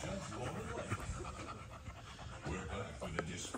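A small puppy pants in quick, soft, rhythmic breaths up close, with faint background voices and room noise underneath.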